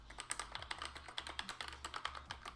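Fingers type on an Acepha T9 Pro keyboard in a quick, uneven burst of close, crisp key clicks and thocks, alone in a quiet room.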